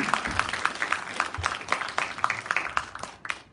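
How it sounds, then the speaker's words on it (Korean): An audience claps before a traditional Korean pansori performance, scattered handclaps forming steady, moderately loud applause from a gathered crowd. "박수 많이 보내주시면 잘하겠습니다."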